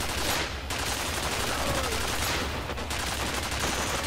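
Sustained rapid gun turret fire in the video game F.E.A.R. Files, a dense, loud, continuous roar of shots with no clear gaps across the whole stretch.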